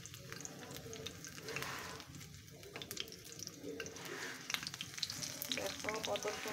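Jute leaf pakoras frying in hot oil, a steady soft sizzle and bubbling that continues throughout at close range, with light clinks and stirring noises from turning the fritters.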